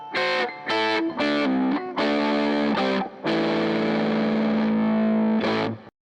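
Distorted electric guitar through a Behringer Vintage Phaser pedal plays a few choppy chords, then a long sustained chord, with a sweeping phaser swirl throughout and a final stab before silence.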